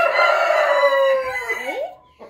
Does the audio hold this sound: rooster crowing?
yes